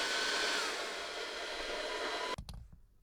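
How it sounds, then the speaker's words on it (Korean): A hair dryer blows hot air onto the feet of a G Pro X Superlight computer mouse to loosen them, a loud steady roar that cuts off abruptly, followed by a few faint clicks and handling noises. "드라이기를 사용해서 열을 가해주면 잘 떼어집니다"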